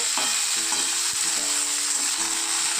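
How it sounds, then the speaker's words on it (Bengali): Cauliflower pieces fry lightly in hot oil, giving a steady, close sizzle with small crackles and pops running throughout and no voices. "ফুলকপিটা আমি হালকা করে এখন ভেজে নেব।"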